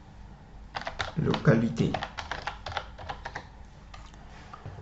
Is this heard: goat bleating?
no